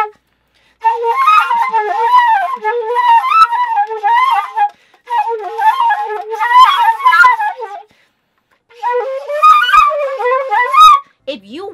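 Flute fitted with a Robert Dick glissando headjoint, playing wavering, sliding pitches in three close phrases separated by short pauses, breathy and somewhat hollow.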